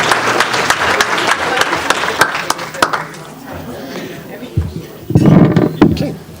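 Rotary meeting audience clapping for musicians, a modest patter of individual claps that fades after a few seconds, followed by nearby talking.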